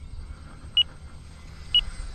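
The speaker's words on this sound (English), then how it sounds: "I got a beeping coming from the radio." Two short, high electronic beeps about a second apart from an RC plane's radio transmitter, sounding over a low steady engine-like hum.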